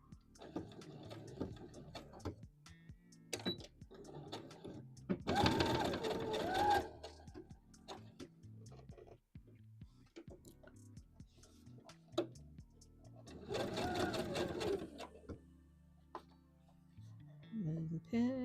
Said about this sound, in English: our sewing machine here, and I'm just gonna try to follow this line here, and sew that stitch